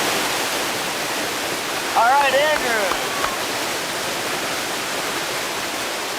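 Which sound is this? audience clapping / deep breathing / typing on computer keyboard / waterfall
waterfall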